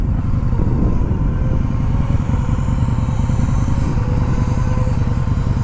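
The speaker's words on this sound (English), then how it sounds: "they really do a good job with their performance exhaust sound" A 2021 Indian Scout Bobber motorcycle with performance exhaust runs close by, giving a steady, loud, rumbling drone throughout with a slight clattery edge.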